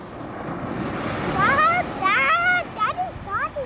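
Ocean waves washing onto a beach in Maui, a steady surf roar mixed with wind buffeting the microphone while a voice and other speech sound over it.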